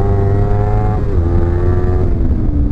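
Kawasaki Z300 A2 motorcycle engine downshifting on a tight road bend, a loud steady engine drone whose harmonics drop in pitch at two gear changes, with constant wind rumble and no talk.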